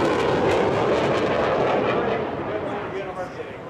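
An F/A-18 Hornet fighter jet of the VFA 106 demo team roars past at the Wings & Waves air show at Daytona Beach, Florida, a loud broad thundering rumble that slowly fades.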